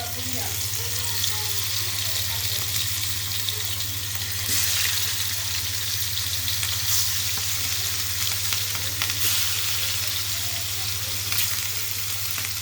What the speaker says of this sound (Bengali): এখন আমি মাছগুলো সুন্দর করে ভেজে নেব।